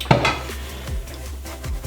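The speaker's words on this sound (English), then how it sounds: "I'm gonna take this, and you're gonna have the spatula, and you're gonna mix." A spatula scrapes and clatters around a pot while Polish budyn pudding mixture is stirred, giving a few close, uneven knocks and scrapes with no talking.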